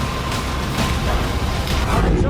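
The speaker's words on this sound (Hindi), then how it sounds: "मेरे पीछे जो आवाज आपको सुनाई दे रही है ये उस गैस पाइपलाइन से निकलती हुई गैस की आवाज है" A burning gas pipeline on a filling-station supply line, hit by a missile in the Ukraine war, vents gas in a loud, continuous broadband roar that holds steady without a break.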